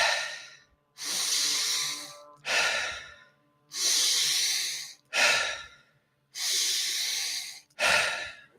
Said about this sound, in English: we're breathing in through the depth of our belly and then into our chest and then letting it go